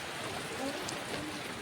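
Heavy rain pours steadily in a continuous, even wash of broadband hiss throughout, moderately loud with no speech over it.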